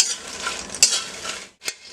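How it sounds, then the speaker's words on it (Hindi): Makhana (fox nuts) dry-roasting in a pan while being stirred, giving a close, continuous rustling scrape with a couple of sharper clinks and a brief pause near the end, with no voices. "इसे चलाते हुए हम भूनना है हमें इसे।"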